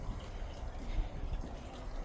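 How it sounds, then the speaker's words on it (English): Water rushes back through a drain line being jetted clear, a low, churning, gurgling wash that stays steady and fairly quiet, with no talking. "the water is now coming back clear, so we know that that line is good"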